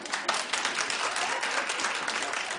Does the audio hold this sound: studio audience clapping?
yes